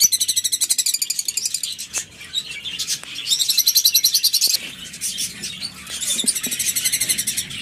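Small birds chirp and tweet in quick, rapid bursts of high trilling calls, pausing briefly between phrases, with scattered faint knocks and rustles underneath.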